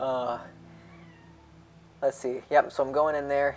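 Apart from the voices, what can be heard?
cat meowing in the background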